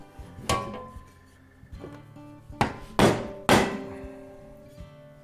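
A wood chisel being struck with a hammer to cut into metal during an electric tractor conversion: several hard, ringing blows spaced irregularly, the last three loud and close together, with no talking.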